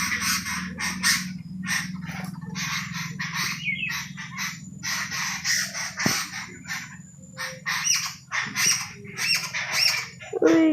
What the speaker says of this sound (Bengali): ওই গাছটায় কত পাখি,